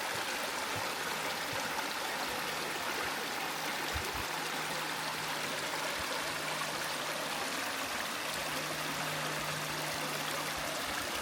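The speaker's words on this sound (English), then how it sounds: "I can literally sit here all day just to listen to the tranquility of this water" A steady, full rush of flowing stream water along a nature trail, close and continuous, with a faint low hum running underneath.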